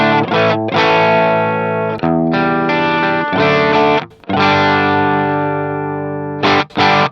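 Electric guitar through a Boss SD-1 overdrive with the drive knob rolled fully off, nearly clean with only slight breakup; sustained ringing chords in several long phrases with brief gaps, fairly loud and alone.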